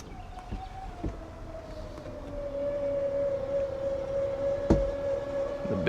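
The powered engine hatch of a 1988 Formula 357 SR1 speedboat opens with a steady electric motor whine that holds for several seconds, punctuated by a few sharp clunks.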